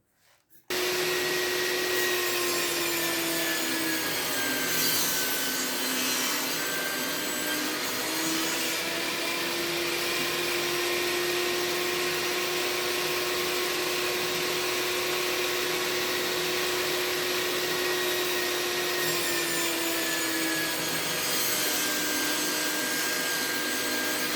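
Table saw cutting a wooden block into a hexagon, a steady loud whining drone that runs continuously with a faint pitch dip partway through, no talking.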